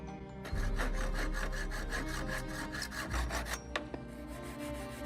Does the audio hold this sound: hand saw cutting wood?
yes